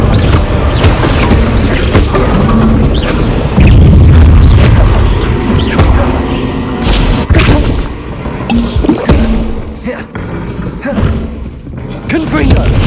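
Confringo blasting spell explosions in the video game Hogwarts Legacy: repeated loud booming blasts and thuds over ongoing game sound, with a voice speaking between them.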